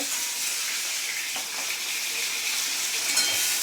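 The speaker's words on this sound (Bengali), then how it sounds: "আর এদিকে শোল মাছ ভাজা হচ্ছে" Snakehead fish and onions fry in a hot pan in a home kitchen, a steady dense sizzle throughout with faint stirring scrapes, close and loud, no talking.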